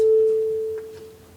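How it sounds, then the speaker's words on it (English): A steady pure 440 Hz tone holds for under a second, then drops abruptly to a much fainter hum that lingers to the end. "And when I hit 440 hertz sound like this."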